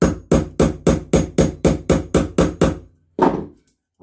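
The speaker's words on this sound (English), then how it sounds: "I need a finer punch than that. Right, we've got a finer punch here." A metal punch is hammered through the cork of a BSA engine petrol tap. About eleven loud, evenly spaced knocks come in quick rhythm, then a short pause and one final strike, close up with no voices.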